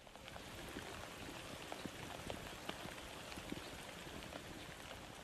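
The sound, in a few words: rain falling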